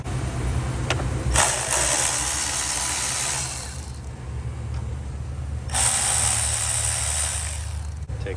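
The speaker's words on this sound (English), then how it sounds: "I'm gonna go ahead and use an 8mm socket. I'm gonna loosen this clamp." Ratchet with an 8mm socket loosening a hose clamp on a 2010-2012 Ford Fusion 3.5 V6 engine, bursts of rapid close clicking at the start and again later, with quieter handling in between and no talk.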